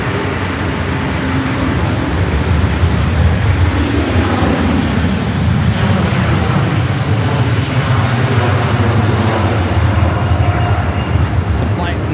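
Airbus A330-200 jet at Los Angeles LAX airport, a loud steady roar of engine noise holding throughout, with talk running over it.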